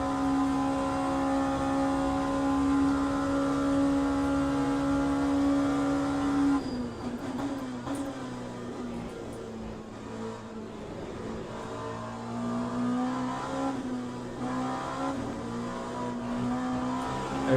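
A steady, droning LMP2 prototype race car engine in Le Mans Ultimate holds a constant pitch, then drops and shifts, revving back up through the gears, loud and close from onboard.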